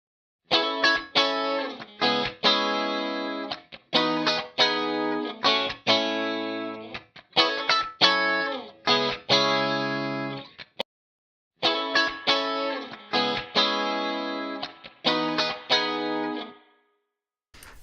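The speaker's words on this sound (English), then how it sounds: "let's bypass those springs completely and just listen to the guitars super, super dry" Dry electric guitars strummed in short rhythmic bursts with a distorted, chorused tone and no spring reverb, chords cutting off abruptly between phrases, close and fairly loud with no talking.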